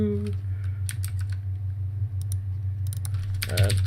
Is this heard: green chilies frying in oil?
no